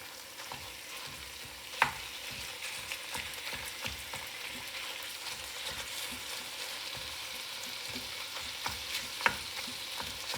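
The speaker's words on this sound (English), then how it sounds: "I'm not going to move it around too much, and so it'll brown nicely." Ground turkey browns in a pan with a steady frying sizzle, punctuated by occasional sharp clicks and taps of a utensil as the meat is broken up.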